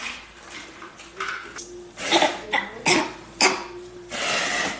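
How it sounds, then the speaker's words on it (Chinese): A young boy coughs in a series of several loud, close, harsh bursts, with short breathy gaps between them at home. "哥哥咳嗽了"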